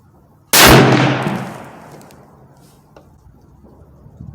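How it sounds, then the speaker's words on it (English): A single .308 Savage Axis rifle shot firing Sierra MatchKing ammunition with the scope set at 12 power: one sharp, loud close-range crack followed by a long decaying rumble and echo, with no talk. "Third shot."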